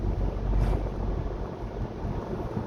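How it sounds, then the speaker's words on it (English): Strong wind gusting across a snowy mountain road between Oslo and Bergen in Norway, blowing snow over the road surface; a steady, loud, rushing roar with buffeting low rumble close to the microphone, no voices. "the wind is blowing snow onto here"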